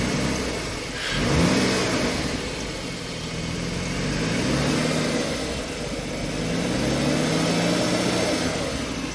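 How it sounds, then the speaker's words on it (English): A 2006 Ford Taurus engine runs smoothly after new spark plugs and wires are fitted to cure a misfire, heard close and steady with a few gentle rises in revs. "the car is running very nicely"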